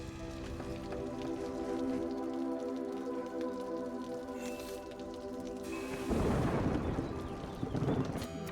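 A rainstorm in the colonial sim strategy game A Viceroy's Duty rises over a steady layer of game music and ambience, swelling into a louder hissing patter of rain near the end.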